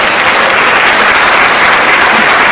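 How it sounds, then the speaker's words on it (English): Audience at a school diversity conference applauding, a dense, loud, steady wash of clapping from many hands with no voices. "Let's give them one more round of applause."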